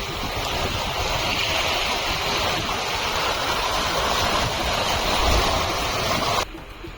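Sea waves wash onto a beach at Gokarna in a steady, loud, broadband roar that swells and recedes without pause, then drops abruptly near the end.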